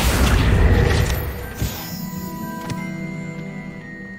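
A Confringo fire spell blasts in Hogwarts Legacy, a loud burst that fades into lingering debris crackles and faint chimes over the next few seconds.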